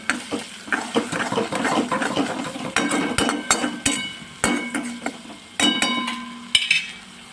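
A spoon stirs farali dry potato bhaji in a pan with salt just added, giving repeated sharp clinks and scrapes against the metal in a steady rhythm, with a soft sizzle underneath, close and moderately loud.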